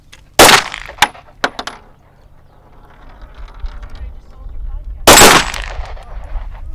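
Guns fire at an outdoor shooting range in two loud, close rapid bursts several seconds apart, each a sharp cluster of cracks, with quieter clicks and murmuring voices in the gaps.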